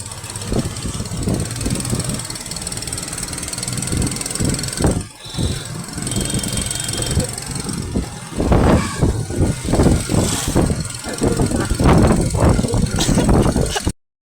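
A bus engine drones steadily while driving through Mymensingh, Bangladesh, a loud, close rumble with road noise and rattles, while passengers talk over it in the background.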